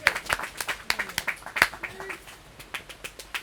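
Sparse clapping from a few people, sharp individual claps in an uneven rhythm that thins out toward the end.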